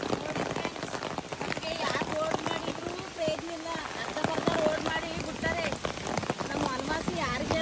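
Steady rain patters heavily on surfaces all around, a dense continuous hiss with voices talking faintly underneath.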